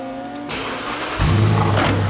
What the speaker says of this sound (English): we turn the engine on so you can hear how smooth and quiet that is